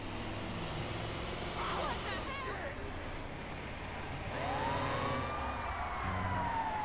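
An ambulance siren wails in Grand Theft Auto 5 gameplay, its rising and falling tones sweeping through a busy mix of game noise and traffic, heard at moderate distance while a voice talks over it.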